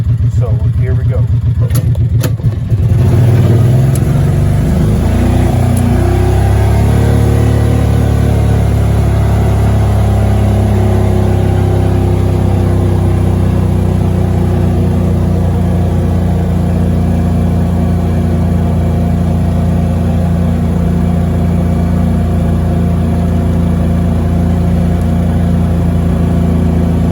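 A Kawasaki Mule 3000 utility vehicle engine is pushed to full throttle after a brief start, a loud uneven drone that stumbles and sputters, with a person talking over it.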